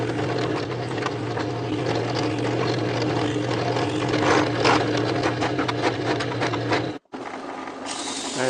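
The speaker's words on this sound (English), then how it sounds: "now I have to clamp it back together while I drill it" A power drill boring screw holes into clamped wooden pieces for a homemade wooden air engine, a steady loud whirring grind running continuously for several seconds before a brief cut-off, with no talking.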